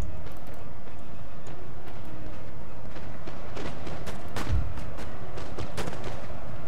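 Musket volleys and artillery booms from a Napoleon: Total War multiplayer battle, a dense ongoing crackle of distant gunfire with one heavier close boom midway, continuous and loud.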